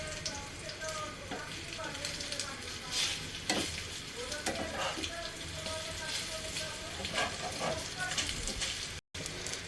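Slices of bread dipped in beaten egg and topped with onion fry in hot oil, giving a steady, close sizzle broken by occasional spatula clatters as a voice talks faintly at times.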